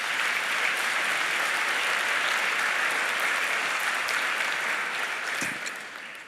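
Sustained, even applause from an audience at a mayor's State of the City address, steady and full throughout, thinning slightly just before the end.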